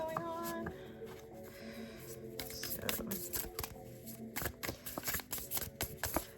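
A new Little Hermits Tarot card deck being shuffled by hand, a rapid series of close, crisp riffling clicks and card-on-card slaps that build into bursts toward the end.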